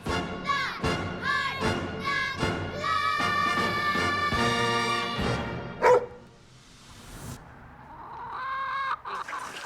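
Dog barking alongside a crowing rooster and clucking fowl in a burst of sharp, repeated calls, followed by quieter sounds and a final call, all fairly close and with no talking.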